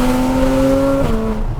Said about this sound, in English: I love this exhaust. This has just made it perfection.